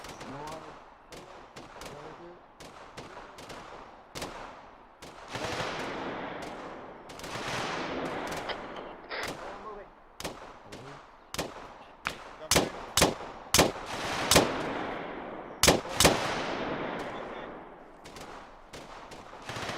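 Gunfire in the Arma 3 military game: dense bursts and single sharp shots crackle throughout, growing louder and more frequent toward the end, with faint voices underneath.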